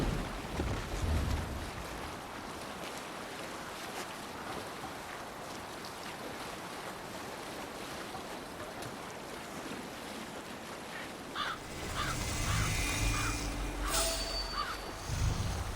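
Sailing ship in Assassin's Creed Valhalla gliding over open water, with steady wind rush and washing waves throughout, then a louder surge of splashing and creaking near the end.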